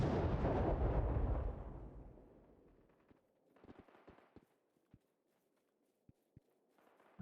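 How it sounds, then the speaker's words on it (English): A grenade explosion in the Battle Prime shooter game booms loud and full, its rumble fading over about three seconds before a scatter of sharp, distant pops and footstep-like clicks follows. "So I got someone with that grenade."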